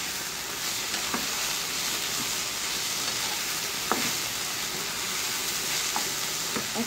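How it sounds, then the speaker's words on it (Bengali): Jute greens (paat saag) fry in a pan with a steady sizzle, broken by a few scrapes and taps from stirring, close and moderately loud, with no voices. "শাকটা মোটামুটি ভাজা ভাজা হয়ে গেছে।"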